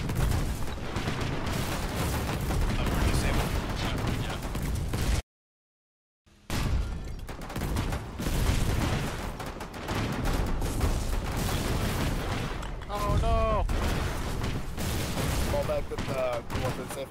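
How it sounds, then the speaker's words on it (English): Dense gunfire and explosions in the war game Foxhole, with overlapping rapid shots and booms forming a constant loud barrage, broken once by a short silence, while voices talk over it. "Alright, start shooting it."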